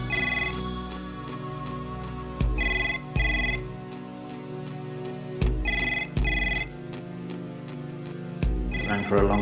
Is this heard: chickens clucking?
no